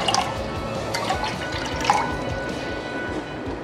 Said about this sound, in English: I have my pot on the fire. I'm going to put some water.